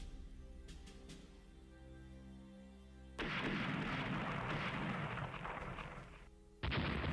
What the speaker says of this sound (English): start firing on their battle cruisers